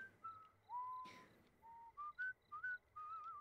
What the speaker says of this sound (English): it's her whistling